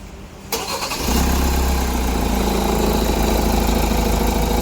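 Hyundai Santa Fe fitted with a Nanexx sodium-ion battery cranking briefly, then catching and settling into a loud, steady idle, close up and with no talking.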